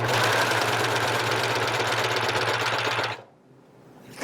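A Janome 634D serger chaining off thread runs steadily at high speed with a rapid, buzzing mechanical rhythm, then stops abruptly near the end, leaving near silence.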